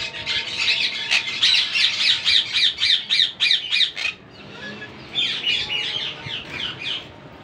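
Green quaker parrots squawk loudly in a domestic breeding setup, a rapid run of harsh repeated calls close by, a brief pause, then another burst of squawks with no talk over them.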